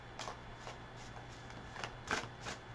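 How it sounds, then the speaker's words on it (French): A deck of playing cards is shuffled in a few soft, brief riffling bursts, quiet and close, over a low steady hum, with no talking. "Prends les cartes."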